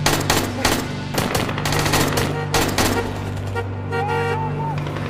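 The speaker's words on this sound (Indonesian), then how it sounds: "Omar terkena tembakan hingga mengalami luka cukup parah" Rapid bursts of gunfire crackle over a dense, noisy film scene with vehicle rumble and a brief horn toot near the end.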